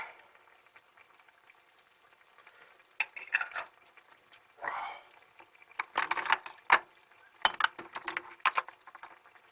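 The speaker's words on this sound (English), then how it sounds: "So I'll just give it a bit of a mix" Bolognese sauce with capers is stirred in a pan, with intermittent bursts of spoon scraping and clacking against the metal between quieter stretches of faint simmering.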